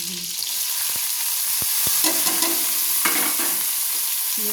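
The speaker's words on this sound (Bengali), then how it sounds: "নেড়ে পেঁয়াজটা যতক্ষণ না ভাজা হচ্ছে ততক্ষণ লাল লাল করে ততক্ষণ নাড়তে থাকবে" Chopped onions fry in hot oil in a kadai for chicken kosha, stirred with repeated scraping strokes over a continuous close sizzle, with no talking.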